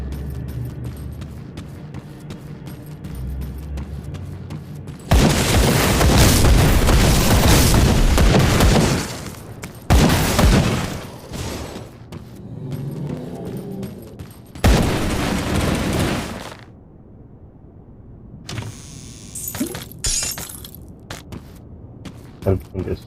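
Explosions from Grim Dawn hit as loud, broad bursts of booming noise in several waves, one lasting several seconds, separated by quieter stretches of game sounds and talk.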